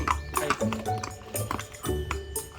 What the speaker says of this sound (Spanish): ¿Es entrenado el caballo?